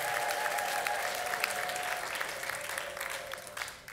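A church congregation applauds during a sermon, with dense, steady clapping that fills the whole stretch over a faint sustained keyboard tone, then thins out at the very end.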